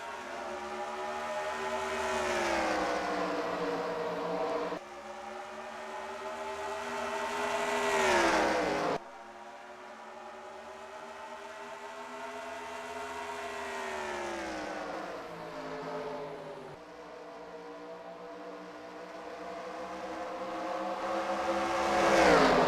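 Race cars in a NASCAR-style racing video game roaring off at the start of a race at New Hampshire, a loud, continuous engine drone with rising pitch sweeps as the pack accelerates and shifts, no talking.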